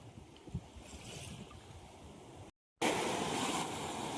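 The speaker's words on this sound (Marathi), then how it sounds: "काय समुद्राच्या लाटा बघा काय जोर जोरात आपल्याला पायाला मारतय" Sea waves wash onto the shore in a broad roar mixed with wind buffeting the microphone, cutting out briefly to silence before returning louder and brighter.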